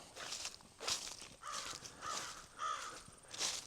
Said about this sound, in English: The crows, if you can hear them,